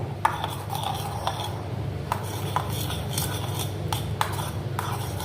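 A knife works through coriander paste in a dish, giving repeated light scraping and tapping strokes at an uneven pace over a low steady background hum.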